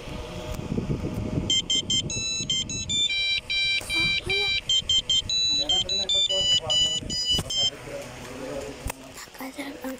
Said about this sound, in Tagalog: biglang nag-alarm yung cellphone ni Charlotte.